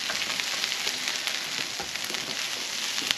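Food browning and sautéing in a pan on an outdoor camp stove, a continuous bright crackling sizzle with small pops, close and steady with no talk.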